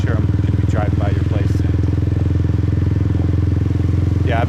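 A motorbike rides through the streets of Saigon's District 2 in Vietnam at night, its steady engine drone loud and close throughout, with a few faint brief sounds from the surrounding traffic over it.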